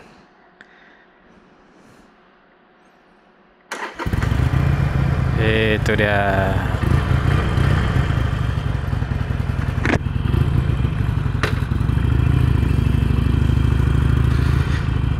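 A Harley-Davidson Iron 883 motorcycle, fresh from a service, starts up with a sudden loud crank and catch, then settles into a deep, steady, loping idle close by, with brief speech at the start.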